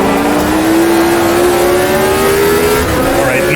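A 1983 race car in the AMS2 racing game revs hard and climbs up through the gears, its loud engine tone rising steadily, close and constant with no talk.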